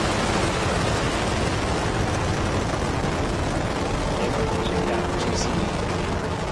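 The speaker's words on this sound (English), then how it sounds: "Liftoff of the Falcon 9. Falcon 9 is over tower." Falcon 9 rocket lifting off from Launch Pad 39A at Kennedy Space Center, a dense, continuous broadband roar of steady loudness that fills the whole clip, heard from a distance.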